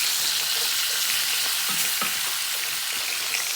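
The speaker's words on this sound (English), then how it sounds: "And then you stir it around." Flour is stirred in a hot pan while braising beef short ribs, giving a steady, close sizzle and fry with light scraping from the stirring throughout.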